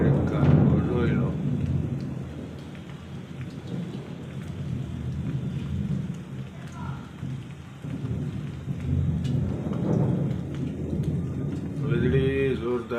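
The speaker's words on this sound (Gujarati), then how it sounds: "વીજળી જોરદાર થઈ કાટકા જોરદાર થઈ રહ્યા" A rainstorm with thunder and lightning: steady rain patters on surfaces while low rumbling thunder rolls through, and a person speaks briefly now and then under the downpour.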